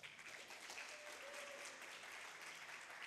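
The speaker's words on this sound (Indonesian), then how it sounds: "tepuk tangan untuk beliau" Faint, steady applause from an audience at an academic talk, a continuous patter of clapping heard from a distance for a few seconds.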